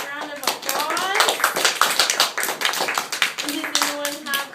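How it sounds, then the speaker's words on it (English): A small group, likely a class of children, gives a round of applause after a penguin presentation, with voices chattering and calling out over the close, uneven clapping. "let's give Genevieve a big round of applause"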